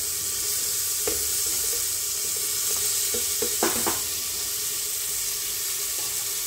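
Tomatoes tossed into a pan of vegetables cooking for a home-style bhaji, a steady sizzling hiss with a short cluster of soft clatters midway, and no voices.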